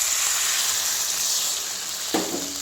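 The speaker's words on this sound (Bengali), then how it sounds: "এবার এতে জল দিয়ে দেব।" Water is poured into a pan of frying mixed vegetables for labra, a steady hissing sizzle and rushing pour filling the whole stretch, with a slight splash near the end.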